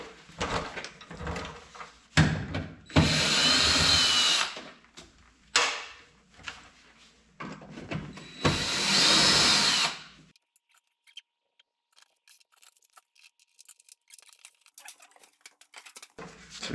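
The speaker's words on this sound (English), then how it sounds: "right angle drill." A right angle drill fitted with a quarter-inch drive 7 mm socket spins out a glow plug screw on a GMC Sierra 2500 HD diesel, giving two loud, close whirring bursts with short clicks and handling noises between them, then near quiet.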